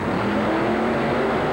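Dennis Anderson's Gravedigger monster truck racing at a 1991 USHRA event in the Houston Astrodome, a loud, dense engine roar held steady for a brief moment, filling the arena.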